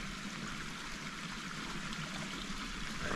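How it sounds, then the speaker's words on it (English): Creek water running along a mountain hiking trail near Horse Thief Falls, a steady, even rush and trickle, moderately close and unbroken, with no voices. "we're going to spend a few minutes enjoying the nice creek"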